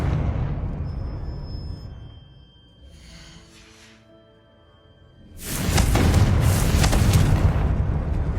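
Confringo blasting spell explosion in the Hogwarts Legacy video game: a low rumbling lead-in, a brief quieter lull, then a loud, broad blast that roars on for several seconds.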